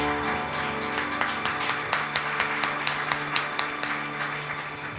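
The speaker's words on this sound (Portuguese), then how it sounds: "Pode aplaudir o Senhor" Congregation in a church clapping along in a steady rhythm over sustained music, sharp regular claps standing out against a continuous tonal backing, with no talk.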